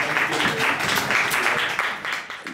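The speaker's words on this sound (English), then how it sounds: "And I want also to use this occasion to welcome with a big round of applause, Joseph Grima." A crowd applauding steadily, a dense wash of many hands clapping at once, sustained and fairly loud with no voices standing out.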